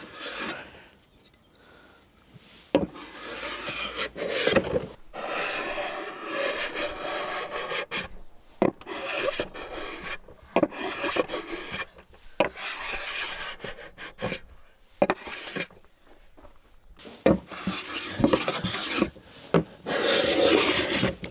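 A cabinet scraper rasps across wood in repeated strokes, close and fairly loud, with short pauses between the bursts and no talking.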